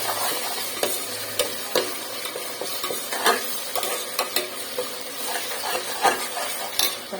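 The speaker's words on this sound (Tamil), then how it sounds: "இப்போ 2 ஸ்பூனு இஞ்சி பூண்டு பேஸ்ட் போட்டுக்கலாம்" A spoon stirring fried onions with ginger garlic paste in a pan, scraping and clinking against the metal in irregular strokes over a soft, steady sizzle.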